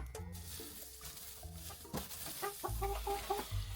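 Hens in a henhouse cluck and chatter, overlapping close calls in irregular bursts with some scratching and rustling beneath, moderately loud.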